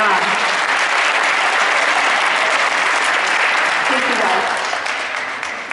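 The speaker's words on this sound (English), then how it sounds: "Let's give them a round of applause." Sustained applause from an audience at a high school senior awards ceremony, dense and steady clapping filling the room for several seconds before starting to taper off at the end.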